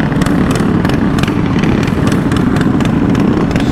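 Mini bike engine revving at night on Compton streets, a loud, steady buzzing motor held close and continuous with rhythmic pulsing throughout.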